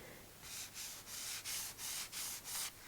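Six rhythmic scratchy strokes of a brush dragging textured gesso across a surface, close and fairly quiet, with short gaps between strokes.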